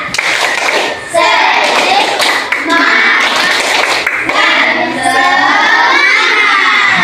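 A class of schoolchildren claps a rhythmic cheer chant in a classroom, with loud group clapping, shouted voices and cheering filling the room nearly throughout, a short dip near the start.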